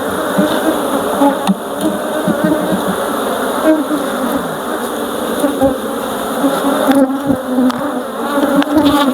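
A honeybee colony in a hive at a Nigerian apiary, a loud, dense, continuous buzzing close by, with small swells and brief knocks throughout.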